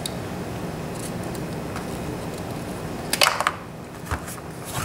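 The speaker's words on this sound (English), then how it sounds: "Snip that off." Scissors snip a piece off a component for a DIY CO2 gel delivery setup, a couple of quick sharp cuts close by against a quiet room background.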